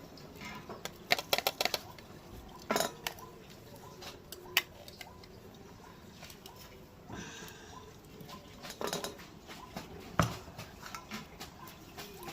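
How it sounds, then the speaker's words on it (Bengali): Blended cashew and whole cardamom powder sifted through a sieve at home, giving soft scattered ticks and patter with irregular taps against the sieve. "এবার এটা চালনির সাহায্যে ছেঁকে নেব"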